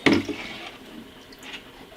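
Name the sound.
liquid being poured into a container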